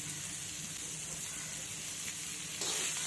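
Chopped onion and tomato sauté in a pan for a sprouted moth bean curry, giving a steady, close sizzle and hiss that runs evenly throughout and swells slightly louder near the end, with no voices over it.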